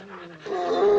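Several bird dogs panting and whimpering close by at night, the sound swelling louder with whiny, rising tones.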